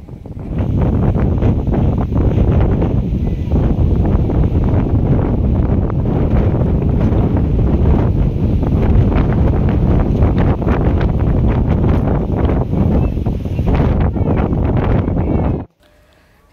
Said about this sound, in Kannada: ಸಿಕ್ಕಾಪಟ್ಟೆ ಗಾಳಿ ಇದೆ, ಮೊಬೈಲ್ ಕೈಯಲ್ಲಿ ಹಿಡಿಯೋದಕ್ಕೆ ಆಗ್ತಾ ಇಲ್ಲ, ಅಷ್ಟು ಗಾಳಿ ಇದೆ